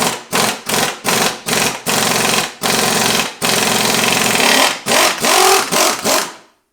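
Impact wrench hammering bolts onto a pinion on a GM 8.2 10-bolt rear axle, loud rattling bursts repeated in quick succession with short gaps, then a longer sustained run before stopping.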